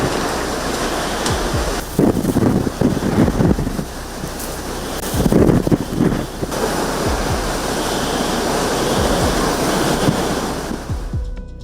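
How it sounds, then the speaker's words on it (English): Category 4 Hurricane Ian batters Punta Gorda, Florida, with a roaring wall of wind and pounding surf, heavy microphone buffeting and repeated louder gusts surging over the constant storm noise. "The strong winds from the Category 4 hurricane forced him to struggle against the gusts to reach a safe location."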